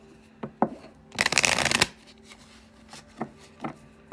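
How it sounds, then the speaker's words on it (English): Oracle cards are shuffled by hand in a dense riffling burst lasting under a second, framed by soft taps and handling clicks close to the microphone. "I'll shuffle a little bit on camera for you"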